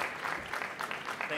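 Brief audience applause at a smart cities talent conference as a speaker is called to the stage, a fairly faint, dense patter of clapping with a voice mixed in.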